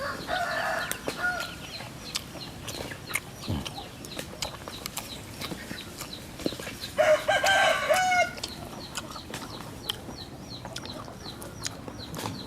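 A rooster crows loudly close by, with a strained, rising call in the middle. Hens cluck and scattered sharp clicks and knocks fill the outdoor farmyard around it.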